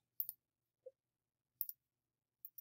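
Computer mouse clicks, three sharp double clicks spaced about a second apart, close and crisp against near silence.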